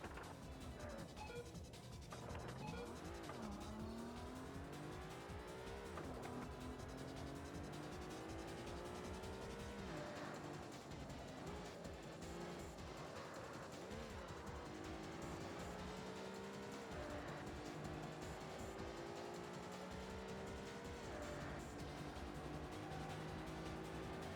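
Car engines in the racing video game Driving Emotion Type-S whine continuously, their pitch climbing and dropping repeatedly through gear changes and corners, faint in level but unbroken.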